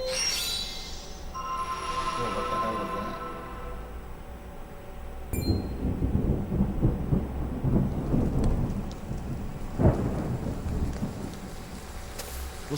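Rain pours steadily in the video game Project Triangle Strategy while thunder rumbles and cracks, with deep rolling booms building midway amid the continuous downpour; faint game tones sound at the start.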